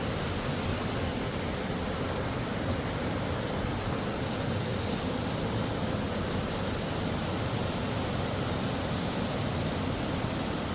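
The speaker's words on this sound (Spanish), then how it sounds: "Miren la maravilla de pozas que se hacen y las mini cascaditas que va rellenando cada una de ellas." Small waterfalls spilling into a chain of rock pools at Siete Tazas National Park in Chile, a dense, steady rushing roar of water with no breaks and no voices.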